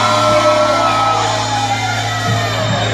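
A live concert crowd at Carioca Club shouts and whoops in a loud, continuous roar. Music hums steadily underneath and no voice stands out on its own.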